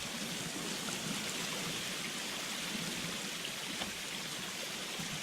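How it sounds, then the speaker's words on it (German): Flowing water in the survival video game The Forest, a continuous broadband rush like a stream or waterfall, steady and fairly loud throughout with no talk. "Das Wasser kommt."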